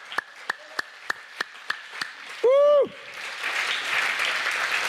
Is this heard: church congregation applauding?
yes